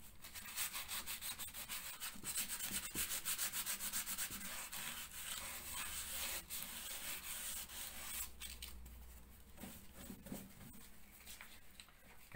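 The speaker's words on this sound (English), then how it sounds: "So a light sand, just these edges." Light hand sanding along the edges of a plasterboard repair, a continuous close rubbing rasp with small pauses and shifts in stroke.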